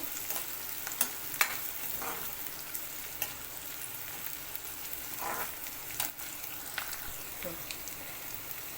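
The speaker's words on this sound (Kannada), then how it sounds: "ಇದಕ್ಕೆ ಚೆನ್ನಾಗಿ ಒಂದು ಐದು ನಿಮಿಷ ಫ್ರೈ ಮಾಡಬೇಕು" Thick pieces of vegetable fry in a pan for a curry, a steady close sizzle with occasional scrapes and clinks of stirring throughout.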